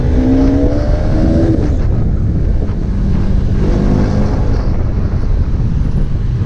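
Heavy road traffic surrounds an RS200 (BS3) motorcycle with 40,000 km on it. Loud, continuous wind and engine roar dominate, with a brief tonal honk near the start.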